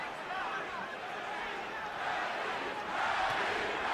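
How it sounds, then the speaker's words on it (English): A large arena crowd at a boxing fight roars in a continuous, fairly distant wash of cheering, swelling louder toward the end, with a commentator's voice mixed in. "Listen to the crowd."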